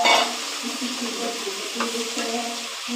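Boiled cowpeas being stirred and sautéed with chili powder in a hot pan for an eggplant and drumstick stir-fry: a continuous close sizzle with scraping stir strokes repeating throughout.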